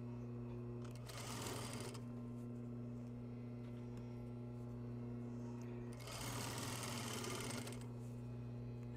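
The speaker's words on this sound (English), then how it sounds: "And stitching to the end, ending with a back tack." A sewing machine stitches a seam in basic garment construction and finishes with a back tack: two distinct bursts of fast, buzzing stitching separated by a pause, all over a steady low electrical hum.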